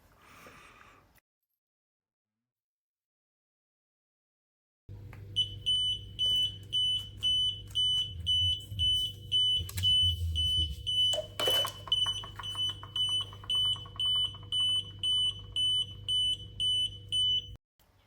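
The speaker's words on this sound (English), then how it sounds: "The monitor can be set with an alarm, and when the pressure decreases below a certain pressure, it'll warn you of low pressure." A tyre pressure monitoring system for a vehicle sounds its low-pressure warning: a loud, steady train of shrill electronic beeps pulsing rapidly and evenly for many seconds over a low hum, with a brief clatter partway through.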